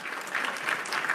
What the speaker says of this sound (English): a round of applause is for y'all